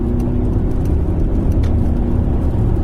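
A car engine hums loudly and steadily while driving, with a low, even rumble under road noise and no clear rev peak.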